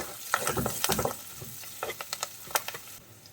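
Ingredients for a Palakkad-style egg curry, including curry leaves, are sautéed and stirred in a pan, giving soft sizzling with intermittent scraping clicks of the spoon up close.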